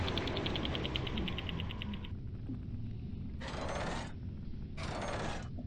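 Door mechanism in the puzzle game Rhem 2: a rapid ratcheting clatter and a low mechanical rumble, followed by two separate bursts of grinding hiss, all with no one speaking.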